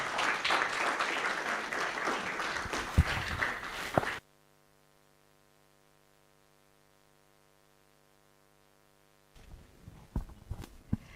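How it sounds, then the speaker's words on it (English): An audience at a university innovation week event applauds loudly for about four seconds, then drops to a quiet electrical hum before scattered claps return near the end. "A round of applause, please."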